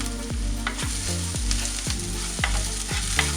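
Green chillies and curry leaves sautéing in oil in a pan, a loud, steady crackling sizzle close up, broken by regular rhythmic knocks and scrapes of a spoon stirring against the pan roughly every half second.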